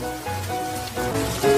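Rain falls steadily in an even, unbroken wash of hiss, backed by a gentle sustained tone, with no one speaking.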